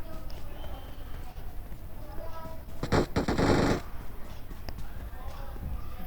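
A brief burst of rapid automatic gunfire from PUBG Mobile cracks out for about a second in the middle of the clip, amid low game ambience.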